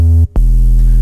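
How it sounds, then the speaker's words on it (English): Synth sub bass from an analog-style sine wave with AC hum and distortion in Serum, two loud sustained low notes separated by a brief gap, buzzing with harmonic overtones. "So we just have an analog sine wave here with AC hum,"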